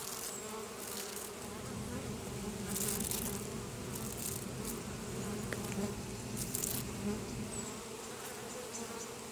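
Honeybees buzz around a hive in a dense, steady outdoor drone of many insects, with a few louder passes up close and no talking.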